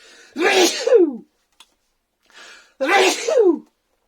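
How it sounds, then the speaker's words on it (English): Two loud sneezes close by, each preceded by a sharp inhale, with a short pause between them. "Gonna sneeze."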